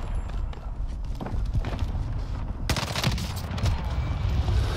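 Bursts of gunfire in Call of Duty on Rebirth Island, loud and continuous, with a sharper cluster of shots partway through and no voices over it.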